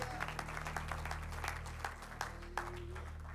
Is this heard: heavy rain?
no